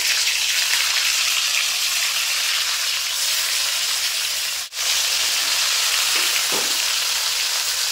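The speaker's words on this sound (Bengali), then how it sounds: "তো এবার পনিরগুলো দিয়ে দেবো।" Paneer cubes fry in well-heated oil in a hot kadai, a steady, loud, close sizzle running throughout with one brief dip midway and a couple of faint clinks near the end.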